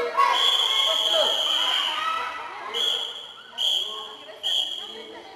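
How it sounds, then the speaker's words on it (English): A whistle is blown to close a Shakha assembly's prayer: one long, steady blast followed by three short, sharp blasts, heard clearly over a low background murmur. "The Mukhya Shikshak shall blow the whistle for Prarthana Sampata."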